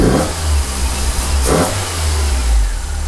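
A Fiat Seicento SPI Turbo engine runs just after starting, revving loudly and unevenly in close range, its low drone rising and falling without settling into a steady idle.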